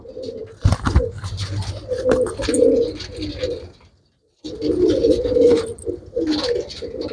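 Pigeons coo steadily in a loud, close flock, with overlapping throaty calls and a sharp flutter near the start, a brief silent gap midway, then the cooing resumes.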